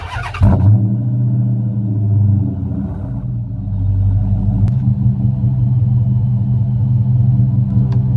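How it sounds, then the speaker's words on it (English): A Dodge Magnum's engine cranks and catches after a brief burst of noise, then settles into a steady, close low rumble that idles on alone for several seconds. "I'm gonna go ahead and start the car just to see if it turns on"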